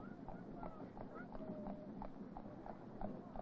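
Horse hooves clip-clop at a steady walking rhythm as an Isle of Man horse tram is pulled along, distinct regular strikes heard faintly at a distance over light wind and background murmur.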